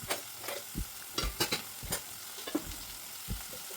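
Tomatoes with salt cook in a pan for a sev bhaji, a soft steady sizzle running underneath while a spoon stirs, knocking against the pan in several irregular taps.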